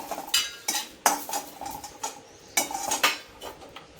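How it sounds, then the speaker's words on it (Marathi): Garlic roasts in a pan for chutney while a metal spoon stirs it, producing a rhythmic series of close, sharp clinks and scrapes against the pan over a faint background. "त्याच्यातच लसूण थोडासा भाजून घेते"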